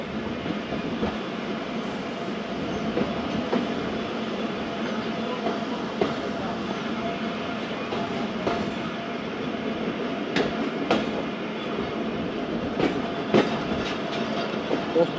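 The 130Dn Thal Express passenger train runs steadily on rails near Attock, a continuous rolling rumble with rhythmic wheel clicks and occasional sharper knocks throughout.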